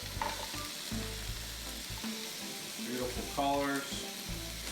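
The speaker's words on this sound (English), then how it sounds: "Sauté that for a little bit, and add our veggies in." Garlic, fresh ginger and vegetables sauté over high heat in a pan, a soft steady sizzle beneath a man's brief spoken remark, with faint stirring.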